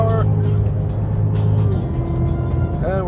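A 2016 Cadillac CTS-V Coupe with 650 horsepower runs fast down the back stretch of the Road America track, its steady loud engine drone holding throughout with a brief rising pitch shift near the end.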